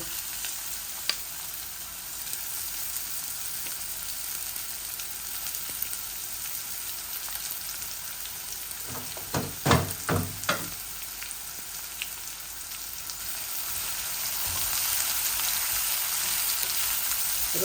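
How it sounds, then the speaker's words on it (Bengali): Onions frying in a pan of oil for a meat and potato curry, giving a steady soft sizzle throughout with a few louder stirring scrapes in the middle and the frying growing slightly stronger toward the end. "রান্না করতে এখন আমি পেঁয়াজ দিলাইমো আমার পরিমাণ মতো"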